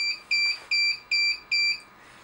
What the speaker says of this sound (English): The tracker beeps for 5 times to respond.